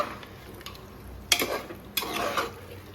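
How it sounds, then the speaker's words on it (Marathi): Chicken pieces tossed with homemade black masala for a smoked sukka, stirred with a spoon in a pan: two distinct scraping clatters with a soft sizzling texture in between, close and moderately loud, no voices. "तर ह्याला आता छान असं मिक्स करून घेऊया."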